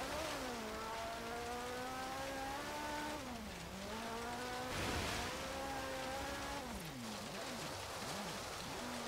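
A 1968 Ferrari 365 GTB/4 engine in Forza Horizon 3 during an autocross run, revving and dropping in steady pitch sweeps as it accelerates and shifts, with a smooth whine over a faint hiss and no talk.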